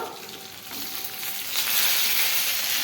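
Green chillies, peanuts and tomato frying in hot oil for a chutney, giving a steady close sizzle that swells louder partway through, with no talking.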